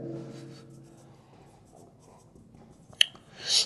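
Pen or chalk writing out a maths equation during a conic sections lesson, faint scratchy strokes after a brief voice at the start, with a sharp tap near the end and a louder scrape closing it.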